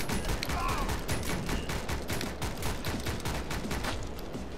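Rapid enemy gunfire from the Speed Limit demo video game, a dense continuous fusillade of shots and bursts loud throughout, with no talk over it.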